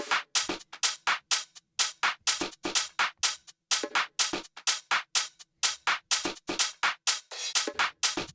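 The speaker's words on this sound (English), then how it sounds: "Then we have the drums," A punchy electronic drum loop from a dance track production, with crisp broadband hits repeating in a steady, driving pattern, alone and fairly loud.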